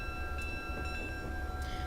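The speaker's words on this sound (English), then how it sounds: "Also, oh, I forgot to ring the bell." Locomotive bell of a modded SDP40F in Train Simulator 2021, heard as steady ringing tones over a low rumble of the running train, with no talking.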